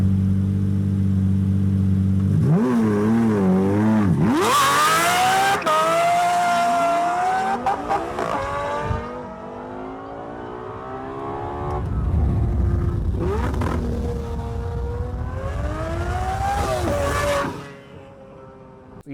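A Lamborghini Murcielago V12 with a Fab Speed exhaust revs hard and loud, several rising and falling sweeps with crackling overrun between them, close to the listener.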